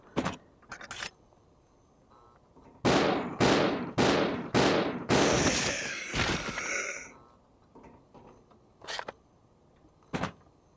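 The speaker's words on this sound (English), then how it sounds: "I'm going to want to use a pistol against this guy instead of wasting shotgun ammo" Pistol shots in the video game Resident Evil Zero: five sharp reports fired at an even pace, each ringing briefly, followed by a few fainter clicks and isolated shots, close and loud.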